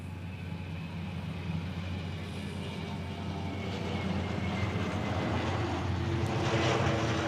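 A military fighter jet roars overhead during an exercise in Hawaii, with a steady broadband engine rumble that gradually grows louder across several seconds.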